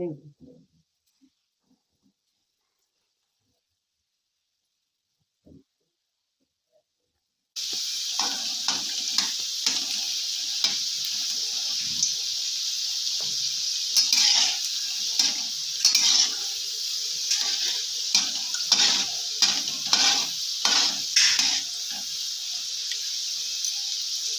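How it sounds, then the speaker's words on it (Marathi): Okra fritters (bhindi bhaji) fry in hot oil over a medium flame, a steady close sizzle with crackling bursts that starts abruptly after a quiet stretch, with some talking over it. "आता इथे गॅसचे फ्लेम मध्यमाचेवर करून हे छान खरपूस तळून"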